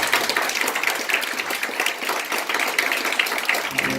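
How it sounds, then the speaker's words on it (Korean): Audience at a Christian denominational panel debate applauds steadily as a panelist is introduced, a dense, even wash of clapping lasting the whole stretch at moderate loudness, with no voices over it. "박수 부탁드리겠습니다."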